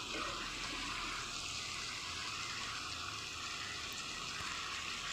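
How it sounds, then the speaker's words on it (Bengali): Water pours steadily into a pan of chicken kosha to make gravy, a continuous soft rushing and splashing that stays even from start to finish with no talk over it. "আমি একটু এতে জল দেবো, দিয়ে আর একটু গ্রেভি করবো"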